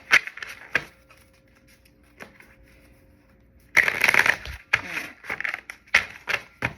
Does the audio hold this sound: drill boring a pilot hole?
no